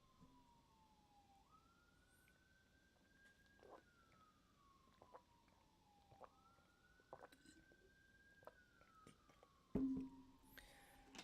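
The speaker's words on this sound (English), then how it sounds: "as the siren comes down the road" An emergency vehicle siren wails along a road in a slow rising and falling cycle, faint and distant, repeating twice with no talking over it.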